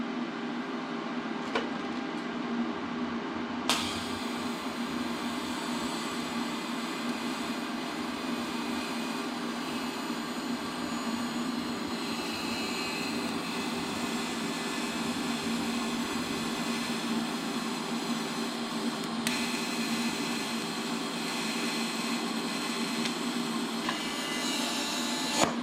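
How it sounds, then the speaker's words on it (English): A TIG welder works on turbo piping for a 1969 Valiant in a shop, a steady buzzing hum with a broad hiss that holds throughout, shifting slightly in tone partway through. "we're going to crank that welder back up and get after it"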